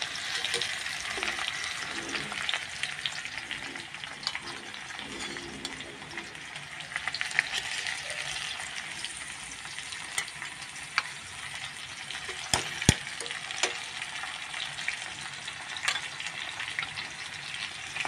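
A large yellowfin tuna steak frying in a pan sizzles and crackles continuously at moderate level, with a few sharp pops and clicks scattered through the steady hiss.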